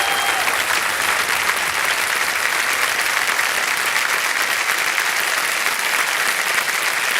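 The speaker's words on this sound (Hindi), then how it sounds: "तालियां बज जाए इनके लिए।" Studio audience on a TV quiz show breaks into dense, sustained applause for a contestant, steady and loud throughout with no talk over it.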